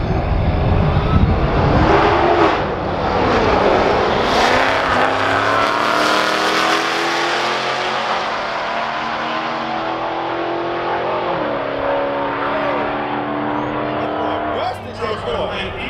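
Race cars accelerate hard in a roll race against a Camaro SS, engines roaring loud and steady throughout with rising revs, while people talk over the noise.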